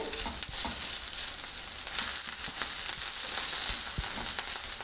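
Tomato paste stirred into beef short ribs frying in a pot, a steady loud sizzle throughout with irregular scrapes and taps of the spoon, close by and without talk.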